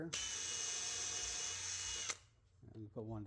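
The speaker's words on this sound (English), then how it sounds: "Usually I just drill the one hole and call it good." A power drill boring a hole in drywall, a loud, steady high-pitched whine for about two seconds that cuts off abruptly, followed by a brief lull and then someone talking.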